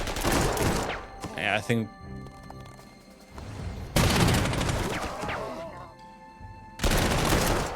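Artillery fire in the war strategy game Panzer Corps 2 lands in heavy booming volleys, loud and crackling, in three separate bursts with quieter gaps between them. A voice speaks briefly.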